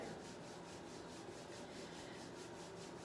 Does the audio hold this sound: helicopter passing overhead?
no